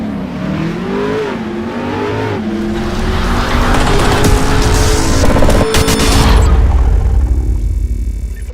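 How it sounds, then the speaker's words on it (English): A Harley-Davidson motorcycle ridden on the road, its engine droning loud and close with rising and falling pitch as it accelerates and shifts, with wind and road roar building toward the end. "I'm sitting here riding a fucking Harley that I own"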